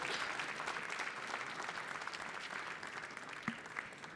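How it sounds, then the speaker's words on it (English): Conference audience at an energy-transition event applauding steadily, a dense wash of many hands clapping at a distance, fairly faint, with no speech over it. "another round of applause"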